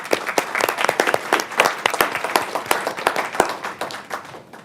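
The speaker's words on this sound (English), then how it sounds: "could we please give them a round of applause?" A conference audience applauding event staff, steady crisp clapping from many hands, close and fairly loud throughout, tapering slightly at the end.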